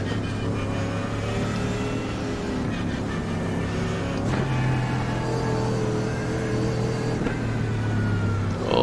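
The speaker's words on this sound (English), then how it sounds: "Driving around T1 in Sebring at the night with GT3s everywhere" Mercedes AMG GT3 race car engine lapping Sebring at night in the iRacing simulator, a steady droning roar with rising and falling pitch through gear changes, continuous and fairly loud.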